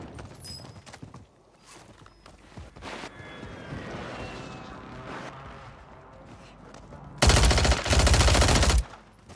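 Video game machine gun fire rattles in a loud sustained burst near the end, preceded by scattered shots, clicks and game effects with a voice briefly heard.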